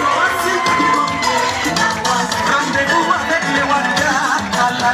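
Lively crowd noise at a Cameroon national day reception held at the embassy residence in Dakar, with loud clapping, cheers and whoops filling the room continuously and voices mixed throughout.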